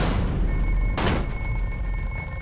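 A cell phone rings with a bright electronic tone, a single burst over a loud low rumbling background, with the sustained high tone lingering afterward.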